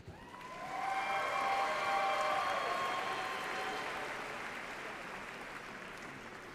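Audience applause at a spring university commencement honoring a doctoral graduate, a broad wash of many hands that swells after the first second, holds steady, then slowly thins over several seconds without any voices.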